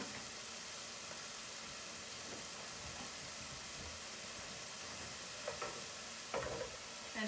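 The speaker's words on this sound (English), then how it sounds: "I can hear the sizzle come up a little bit higher." A soft, steady sizzle hisses from a pot on the stove, faint and continuous, with a few small pops and bubbling clicks near the end.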